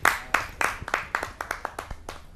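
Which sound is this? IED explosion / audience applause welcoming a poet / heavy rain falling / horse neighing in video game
audience applause welcoming a poet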